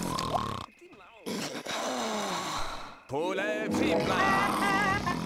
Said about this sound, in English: Listen to her snore, man.